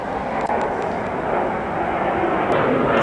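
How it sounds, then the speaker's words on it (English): A fighter jet passes overhead with a loud, steady broadband roar that holds for about three seconds, swelling slightly toward the end, with no talk over it. "yeah, it's a fighter jet"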